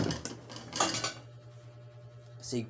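Dishes, pots and cutlery clatter briefly at a home sink as a large pile is washed, a few clinks and clanks early on, then a steady low hum with a final clatter near the end.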